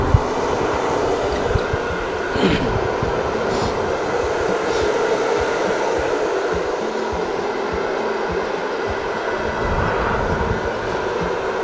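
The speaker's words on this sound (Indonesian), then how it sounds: "Hair dryernya angin dan panas, ada anginnya ada panasnya, jadi dia itu bisa cepat kering." Hair dryer blowing hot air over acrylic paint on canvas, a loud, steady whooshing roar that holds unbroken for the whole stretch.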